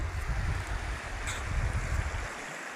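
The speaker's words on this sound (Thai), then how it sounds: "จุดนี้มันอยู่กลางลำแม่น้ำโขงครับ" Boat out on the middle of the Mekong River near sunset, giving a steady low rumble with wash of water and wind noise throughout, fairly close and unbroken, no talking.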